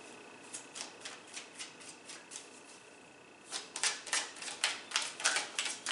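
Tarot cards are handled in a few light, evenly spaced flicks, then a louder, faster burst of crisp riffling snaps, close and with no voice.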